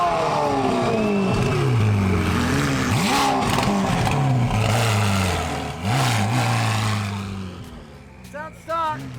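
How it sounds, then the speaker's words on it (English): A McLaren sports car's engine revs hard and close, its pitch sweeping up and down through several pulls before it drops and trails off, with a short blip near the end. "Mike's about to take off in his Mclaren."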